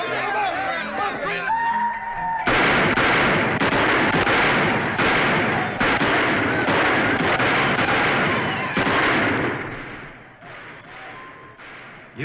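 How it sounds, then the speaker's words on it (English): Celebrating cowboys in a Western fire their guns in a long series of loud, sharp shots with an uneven rhythm, preceded by a moment of talk and carrying on outside. "You gonna do anything about those guns out there?"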